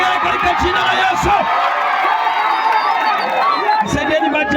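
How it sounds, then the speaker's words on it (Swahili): Church congregation at a healing service in Kebweye, Tarime, Tanzania, ululating in praise, a loud sustained wall of high trilling voices with scattered whoops and crowd noise throughout. "Pia Bwana vigelegele katika jina la Yesu"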